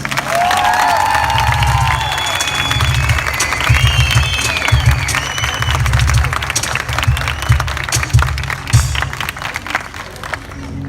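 Audience at a live concert applauds and cheers for a performer, a loud, sustained wash of clapping with shouts and whistles from the crowd.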